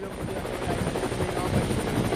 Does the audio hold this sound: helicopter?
yes